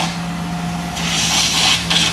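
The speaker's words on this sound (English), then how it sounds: "a generator running while someone over the back there is doing some laser cutting" A generator drones steadily nearby while laser cutting goes on somewhere behind, adding a loud, rough hiss that swells partway through and stays heavy to the end.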